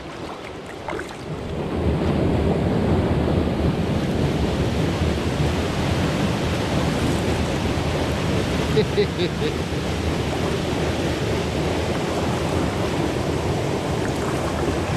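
River Ouse in York flowing past, heard from an inflatable kayak as a steady broadband rush of water mixed with wind buffeting the microphone, continuous and fairly loud after a brief quieter start.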